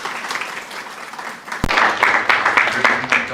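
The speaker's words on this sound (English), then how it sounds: "Let's clap for the Dr." Audience at a press club luncheon bursting into applause for a speaker, a dense crowd of claps building loudly after a sharp onset and sustained near the mic, with some voices mixed in.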